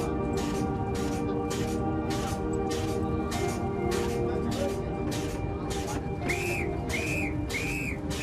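A colliery whistle sounds for the end of the final shift at a mine, giving a series of short, regular bursts at moderate distance. It is followed by a few rising whistle tones, with a steady low rumble underneath.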